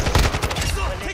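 Rapid gunfire rattles in a shooter video game, a loud run of close, overlapping shots with sharp bursts in a quick, uneven rhythm.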